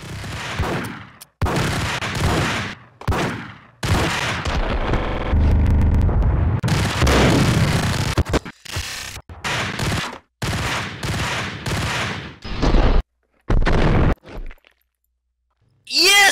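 Gunfire in the Max Payne video game, a hotel level, with bursts of rapid shots and louder blasts broken by short silences, close and loud, with a voice reacting between bursts.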